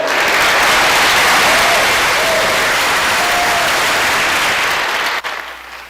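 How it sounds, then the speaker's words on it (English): A large audience applauds loudly and continuously at a criminal justice reform event, dense steady clapping that cuts off abruptly near the end. "Let's give him a round of applause."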